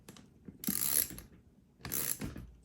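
A part being tightened down during assembly of a Proses Smart Eco Helix, heard as two close ratcheting bursts of clicking about a second apart, with quiet handling noise between.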